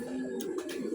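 Young racing pigeons coo softly at the loft as they arrive back from a training flight, a low, throaty burbling that holds steady through the moment with brief breathy swells.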